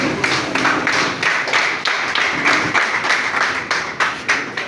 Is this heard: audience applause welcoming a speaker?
yes